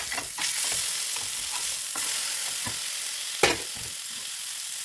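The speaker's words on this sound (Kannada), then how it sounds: "ಮೀನು ಫ್ರೈ ಮಾಡುವಾಗ ಸ್ವಲ್ಪ ಮುಚ್ಚಿ ಬೇಯಿಸಿದ್ರೆ ಒಳಗಡೆ ಎಲ್ಲ ಬೇಗ ಬೇಯುತ್ತೆ" Fish fries in a covered pan with a steady, dense sizzle throughout, broken by a few soft knocks from the pan or lid.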